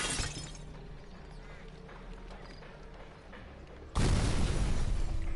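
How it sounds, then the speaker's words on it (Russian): An explosion in a Sherlock Holmes chain-reaction puzzle on PS4: quieter clattering and tumbling at first, then a sudden loud blast near the end that stays as a heavy, sustained roar. "Взрыв."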